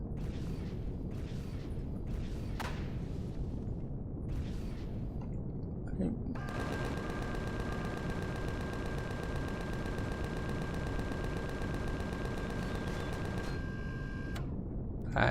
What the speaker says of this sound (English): And something's firing from the ground,